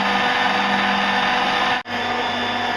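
A food processor runs steadily to whip egg whites and sugar for macarons. It gives a loud, even motor drone with a brief cut-out near the end before it resumes, and no voices.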